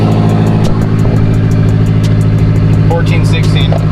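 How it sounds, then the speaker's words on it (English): A loud Mazda Mazdaspeed3 engine runs steadily at close range with a strong low drone throughout, while a person talks over it. "I'm pretty sure this car is really loud"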